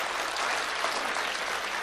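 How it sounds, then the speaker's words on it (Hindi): Audience applause at a lively Hindi-language talk, a steady dense wash of clapping hands that holds evenly throughout, fairly loud and with no voices over it. "अच्छी बात पर अच्छी ताली बजनी"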